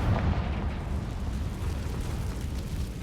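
A Confringo fire spell from the Hogwarts Legacy video game goes off in a heavy, rumbling blast that rolls on for several seconds, loud and dense in the lows, with no voices over it.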